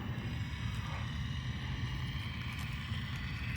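A Volantex F4U Corsair 500mm RC model plane taxiing, its small electric motor giving a steady, faint whine over low rumbling ground noise with no talking.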